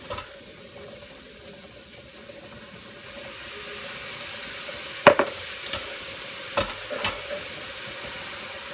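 Vegetables in a pan start sizzling louder as a quarter cup of water is added, a steady hiss rising midway with a few sharp clinks of a utensil against the pan.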